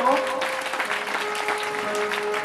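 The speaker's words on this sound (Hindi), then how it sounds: "जोरदार ताली माताओं बहनों भक्तजनों।" Dense, continuous applause from a crowd at a religious stage gathering, loud and steady, with a sustained musical tone and voices blended in.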